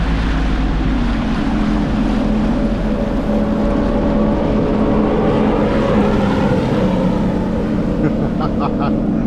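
A Sea-Doo RXP-X 300 jet ski runs on a smooth lake, its engine a loud, steady droning roar that holds throughout, close and continuous.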